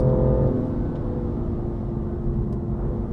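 A 2019 BMW M2 Competition engine drones loudly on the Ascari track, a steady rumbling roar with a slight pitch fall early on and no talking.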